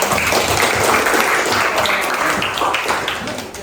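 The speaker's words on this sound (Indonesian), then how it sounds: "Ya bagus, kasih aplaus buat" A classroom of students claps loudly and continuously for a classmate's group presentation, then the applause tapers off slightly near the end.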